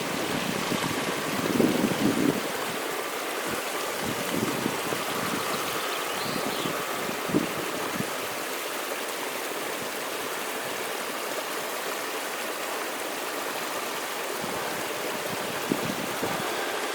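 Fresh water runs off stone in swampy ground at a rainy wild camp, a constant rushing flow mixed with wind noise and no talk.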